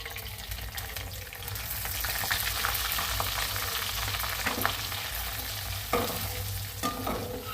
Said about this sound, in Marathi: हा रवा चांगला बारीक गॅसवरती भाजून घेते.